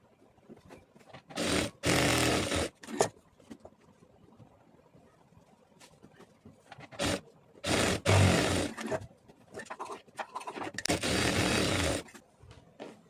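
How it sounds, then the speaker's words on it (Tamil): Sewing machine stitching a curved seam on blouse lining in bursts of steady mechanical whirring, several runs of a second or two separated by pauses with faint handling sounds, close and fairly quiet. "இதில் அப்படியே வளைவாக ஒரு தையல் போட்டுக்குவோம்"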